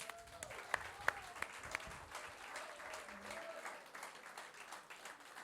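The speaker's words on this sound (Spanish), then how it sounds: "Denle un aplauso al Señor" A church congregation gives a quiet, scattered round of applause, with a few distinct sharp claps standing out early over a soft, thin background of clapping and murmuring voices.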